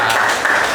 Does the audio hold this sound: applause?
yes